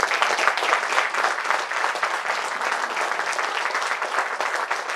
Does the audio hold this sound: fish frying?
no